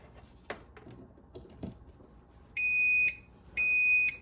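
A deep fryer beeps after being plugged in, two bright electronic tones, each about half a second long, following a few soft handling clicks and knocks in a quiet kitchen.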